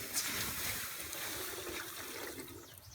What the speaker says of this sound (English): So I'm going to pour a little water in carefully.